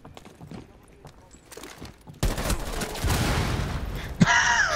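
A frag grenade detonates in a first-person shooter video game, a sudden loud burst that cuts through quieter game noise and is followed by sustained rumbling and debris, with a sharp crack near the end.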